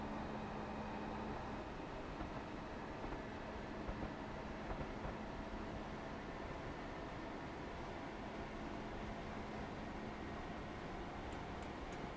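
Steady rumble of an electric Class 314 train running along the track in a train simulator video game, a continuous drone with a low hum and faint rattling, no voices.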